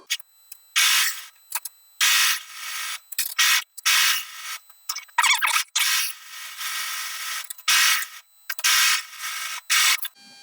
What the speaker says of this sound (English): I'm going to now just straight stitch down the whole center back